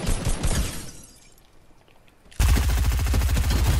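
Video game gunfire rattles in loud, rapid automatic bursts: a dense volley at first, a brief quieter lull, then a sudden heavy sustained stream of shots to the end.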